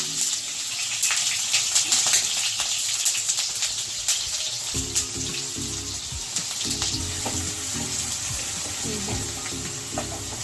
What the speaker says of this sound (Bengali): তেল গরম হয়ে গেছে, এবার এতে আমি একটা বড় সাইজের পেঁয়াজ কুচিয়ে রেখেছিলাম, এটা এর মধ্যে দিয়ে দিচ্ছি।